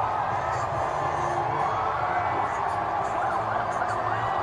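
An excited crowd packed right against the road near a motorcade cheers and whoops in a steady, dense roar, with a siren-like wail and shouting mixed in throughout.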